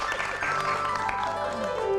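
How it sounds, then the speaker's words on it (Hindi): A studio audience claps for Naz Junaid during a Satrangi episode, a short burst of applause heard beneath lingering tonal background sound. "नाज जुनैद के लिए बहुत सारी तालियाँ जी"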